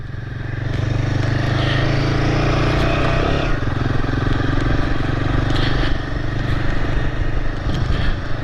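Royal Enfield Himalayan 450 motorcycle being ridden, a loud close steady engine thrum with rising revs and rattly mechanical clatter over wind, running continuously without speech.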